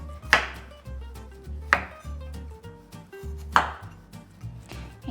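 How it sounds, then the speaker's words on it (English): A knife chops through fresh ginger on a cutting board, slicing it into thin pieces: a handful of crisp, close thuds spaced about a second apart, with no voices. "I'm going to cut half of the ginger piece into smaller, thin slices"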